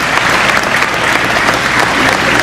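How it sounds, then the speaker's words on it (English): A crowd claps loudly and steadily after a USO singers' show for Honor Flight veterans, sustained applause filling the space. "a big round of applause"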